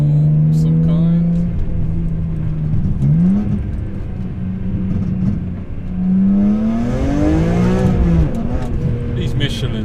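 A BMW M3 with an S54 engine drives along a wet, muddy road, its exhaust note rising and falling through gear changes with loud up-revving near the end, while people talk inside the car over the engine.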